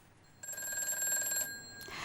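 A telephone rings in a TV studio as a viewer calls in to a live show, giving one clear, bright electronic ring about a second long, then the start of another.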